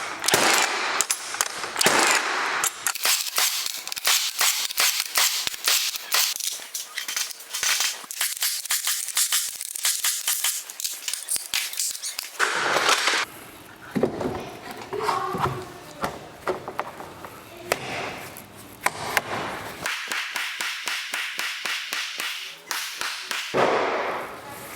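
Nails, three inches long, are driven through stacked 2x6 lumber and plywood during framing: a long run of rapid, sharp close impacts in bursts, with brief pauses between strings of blows.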